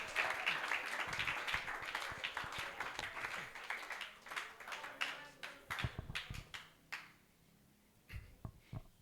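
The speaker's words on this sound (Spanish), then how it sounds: "déle ese aplauso más fuerte" A church congregation applauds at a worship service, loud crowded clapping at first that thins into scattered individual claps and then a few sharp claps at the end.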